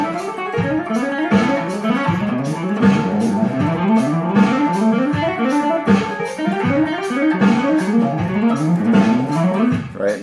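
A clean electric guitar plays legato thirty-second note triplets, nine notes per beat, in a fast, even, continuous stream of hammered and pulled notes, loud and close with no talking.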